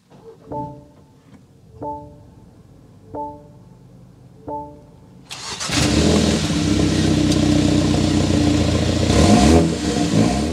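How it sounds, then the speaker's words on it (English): Four chimes sound at even intervals, then a 2024 BMW X1's engine cranks and fires, settling into a loud, deep exhaust rumble that holds steady. "We need to go inside, start it up, so you can hear that exhaust though."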